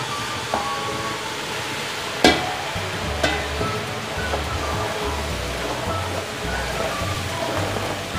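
Hot sugar syrup poured into a semolina and gram flour halwa in a pan gives a steady sizzling, bubbling hiss with a few sharp clinks of a utensil, moderately close and continuous.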